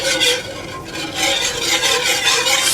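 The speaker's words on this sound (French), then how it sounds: "Tout en brassant pour que la fécule de maïs" Apple pie filling thickened with cornstarch being stirred in a pot, a steady scraping, bubbling stir that runs continuously and close, with a faint sizzle underneath.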